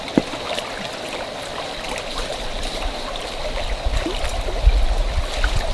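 Creek water flows steadily while cups are rinsed in it, a close, continuous trickle and babble with small splashes and knocks building slightly toward the end.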